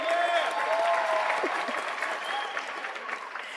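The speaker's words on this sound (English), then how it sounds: "clap it out for Dr. Cohen, y'all" A graduation audience at Edison Career and Technology High School applauds for the Class of 2026, a dense, even wash of clapping that fades slightly over a few seconds.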